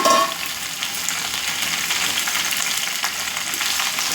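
Cut okra (bendakaya) fries in heated oil in a pan, a loud continuous sizzle with a brief stirring clatter at the start.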